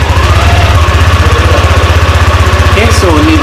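Yamaha NVX 155 scooter engine idling up close, a steady low rhythmic putter throughout with a faint voice briefly audible near the end.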